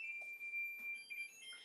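An oven timer alarm sounds a sustained high electronic tone that wavers and steps between pitches, steady and moderately loud in a quiet kitchen.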